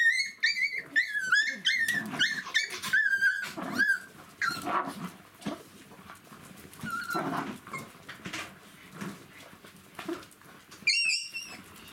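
Young puppies about seven to eight weeks old, squeaking, whimpering and growling in a busy litter, with high yelps in quick bursts over scuffling, close and fairly quiet.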